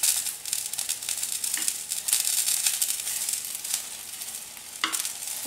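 Chicken sausage patties sizzle and fry in a pan over a low gas flame, a steady crackling hiss with occasional stirring and turning scrapes, close and alone without talk.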